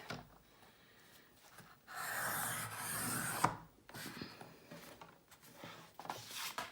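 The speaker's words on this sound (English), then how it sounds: "cardstock, and we're going to cut that at 4 1/4 as well. Now, hopefully my trimmer, I think it will work" A paper trimmer slices through a sheet of cardstock cut to 4 1/4 inches, giving a loud, close scraping rasp that lasts about two seconds, with quieter rubbing and handling noises before and after.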